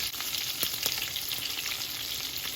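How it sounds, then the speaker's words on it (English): Ground meatballs browning in a frying pan give a steady, close sizzle with small crackles and pops, with no voices over it. "so these are browning really nice"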